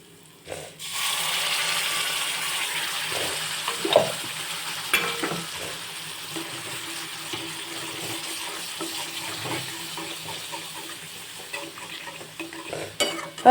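Tomato puree cooking in a pan with golden brown onions, a steady soft sizzle with stirring scrapes and clinks throughout, close and alone with no talk.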